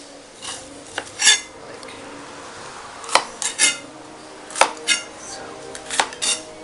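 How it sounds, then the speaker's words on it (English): A knife cuts vegetables into strips on a board for a stir fry, giving irregular crisp chopping knocks spaced a second or so apart over a steady room hiss, with a brief spoken word. "Just slice these into strips."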